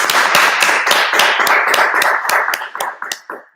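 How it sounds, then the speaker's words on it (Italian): Applause for a young boy named Edoardo at a charity event, made up of a few people's loud, close, brisk handclaps that stay dense, then thin into scattered individual claps and stop. "Facciamo un applauso a Edoardo."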